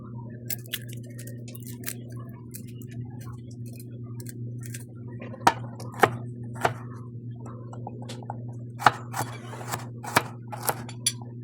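Papaya is grated by hand, giving sharp, irregular scraping strokes that grow denser and louder toward the end, over a steady low background hum.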